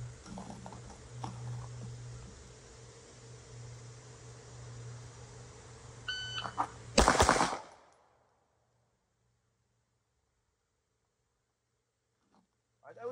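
A shot timer beeps briefly, then pistol shots crack in a fast, sharp burst during a Trifecta drill, loud and close after a stretch of steady background noise, followed by near silence.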